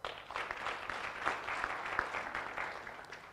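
Conference audience applauding a professor's presentation, a steady patter of clapping heard at a modest distance for a few seconds with no talking.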